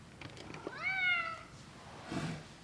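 A single drawn-out cat meow rises and falls, fairly close, with a soft rustle and faint background noise while work on epoxy and solder goes on nearby.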